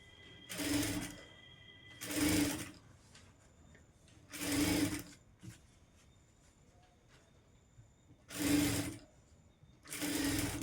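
Sewing machine stitching along the neckline of a boat neck blouse, five distinct loud bursts of rapid stitching separated by short quiet pauses, no talking.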